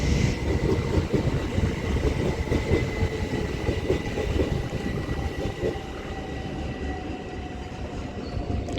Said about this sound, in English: 387171 heading off to Newbury from London Paddington